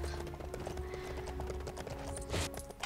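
Goat hooves clip-clopping in the video game Lego Lord of the Rings, a quick continuous patter of hoof taps over a game music backdrop, with a brief bleating-like cry near the end.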